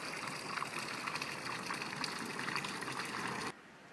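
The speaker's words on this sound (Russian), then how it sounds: "Здесь на холме есть даже вот такой вот фонтанчик чистой горной воды. Откуда-то сверху бежит." Clear mountain spring water running from a small hillside fountain, a steady close gushing splash that holds evenly and then cuts off abruptly near the end, with no talking.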